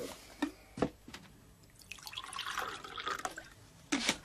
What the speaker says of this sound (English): Pour myself a bit of coffee.